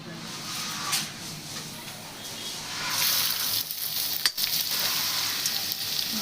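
Manchurian balls dropped into hot oil, a steady close sizzle that grows louder after a few seconds, with a brief clatter in the middle.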